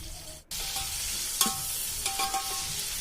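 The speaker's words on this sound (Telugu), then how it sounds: "అందులో ఆయిల్ వేసుకొని పచ్చిమిర్చి, ఆనియన్స్, కొత్తిమీర, పుదీనా వేసి బాగా ఫ్రై చేసుకోవాలండి." Green chillies, onions, coriander and mint fry in oil for a village-style country chicken curry, a close steady sizzle with scattered clinks and scrapes of stirring after a brief dropout at the start.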